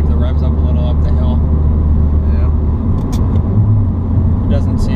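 Ford Focus ST climbing a hill in gear with revs held up, its engine humming as a steady low rumble from inside the cabin, loud and continuous under road noise, with occasional faint clicks.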